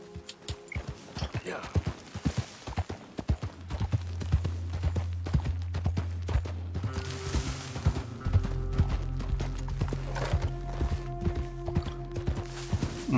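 A horse's hooves clip-clop in Red Dead Redemption 2, a steady, fairly loud rhythm of sharp knocks continuing over a low droning tone that shifts midway.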